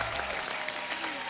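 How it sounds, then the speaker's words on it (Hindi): Studio audience applause on a Hindi comedy talk show, a brief burst of many hands clapping, fairly faint and steady, with no talk over it. "अटैक के लिए जोरदार तालियां"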